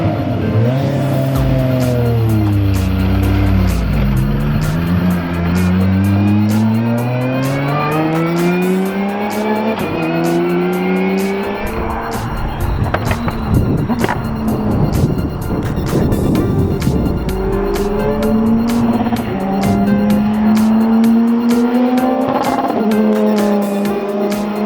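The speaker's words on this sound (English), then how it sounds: "There is an Aston Martin Vulcan at Tickover just behind me on the grid here at Goodwood" An Aston Martin Vulcan race car sits on the grid at Goodwood, its engine loud and close. It rises and falls through repeated throttle blips and swells between rougher idle stretches, with no voices.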